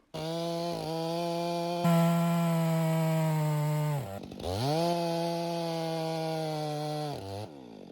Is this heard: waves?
no